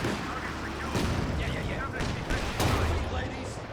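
Tank cannon and small-arms fire crackle through a Company of Heroes 2 battle, with repeated sharp reports and a few heavier booms over a constant din of combat noise, a voice talking over it.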